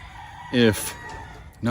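Chickens calling close by, two loud harmonic clucks or squawks with a quieter stretch of farmyard noise between them.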